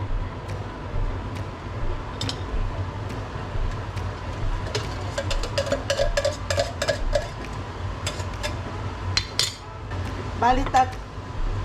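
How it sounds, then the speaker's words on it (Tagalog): A pot of caldereta being stirred as coconut milk and chili go in, with scattered metallic clinks and scrapes of a spoon against the pot over low background hum, and a voice talking intermittently. "Ilalagay ko na itong gata at ihalo ko na itong sili."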